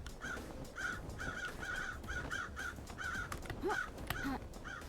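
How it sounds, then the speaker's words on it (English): Crows caw repeatedly in the video game Paradise Killer, a run of harsh calls spaced through the clip over a steady ambient bed, with no talking. "Hi, birds. I just wanted to say hi."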